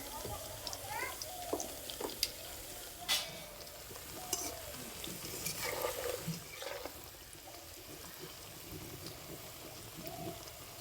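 Potato chips fry in hot oil with a continuous broad sizzle, punctuated by light stirring and utensil clinks, while a person talks over the cooking.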